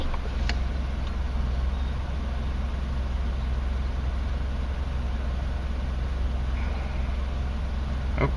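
A Mercedes W202 C230 engine idles steadily in drive, a constant low rumble with even hum and no pauses, heard close up with no talking.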